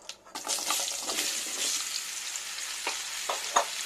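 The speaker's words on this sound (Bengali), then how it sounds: "ফোড়নটা ভাজা হয়ে গেছে, এবারে আমি কেটে রাখা শশাগুলো দিয়ে দিচ্ছি।" Cut cucumbers go into a hot nigella and mustard seed tempering in oil, setting off a bright, crackling sizzle, with a few sharp clatters from stirring near the end.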